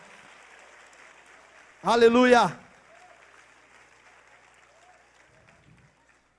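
Congregation in a church service breaking into a short burst of applause lasting about half a second, quick and moderately loud, set against a quiet room with faint talking around it.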